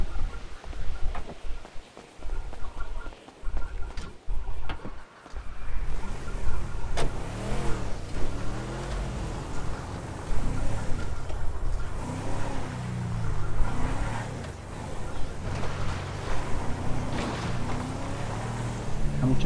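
Cars drive in the video game GTA 5 during the Caida Libre mission, engines revving and rising in pitch repeatedly, loud and continuous with tire and road noise, while someone talks over them.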